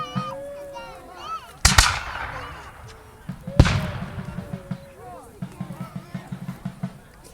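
Two sharp musket shots ring out a couple of seconds apart at a Revolutionary War reenactment, each followed by a short echo, over a background of crowd murmur and faint clatter.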